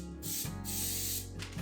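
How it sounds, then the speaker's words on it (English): Cooking spray hisses onto a baking pan for keto pumpkin bread in three short, close bursts with brief pauses, alone with no talking. "We're gonna spray it lightly."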